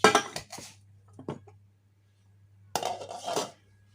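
A cooking pot is handled, with a couple of bright metallic clanks and scrapes near the start, a pause of near silence, then another clattering burst of contact.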